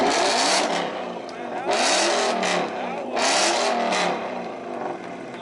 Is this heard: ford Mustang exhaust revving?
yes